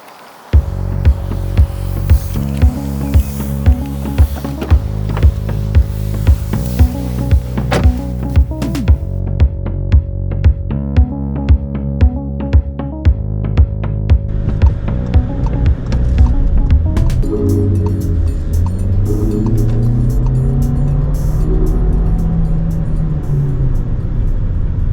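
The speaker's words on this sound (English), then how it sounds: "Small car, small engine, but no trouble merging into traffic." A small-engined Volkswagen drives and merges into traffic. A steady engine drone with rhythmic tonal pulses gives way to a rising, shifting engine note as it accelerates, close and continuous, without speech.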